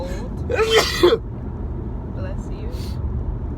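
A person sneezes once, close and loud, with a sharp burst and a short vocal tail while recovering from a cold, followed by quieter murmuring over a low background hum.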